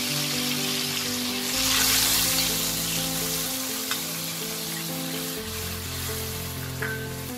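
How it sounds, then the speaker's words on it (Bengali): Hilsa fish in mustard sauce sizzles and fries steadily in a pan, swelling into a louder hiss as a little water is poured in, then settling back to a continuous close bubbling sizzle with no talk. "এবার একে অল্প জল দেবো।"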